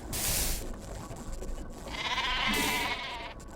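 Sheep bleat in the StarCraft II custom map Horologium RPG, two drawn-out wavering cries a couple of seconds apart over faint game background noise.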